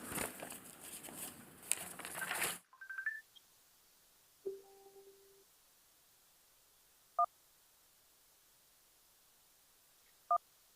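A phone call cuts into an online PhD defence session: a burst of loud noisy audio stops abruptly, followed by a few sparse electronic dialing tones and short beeps in near silence.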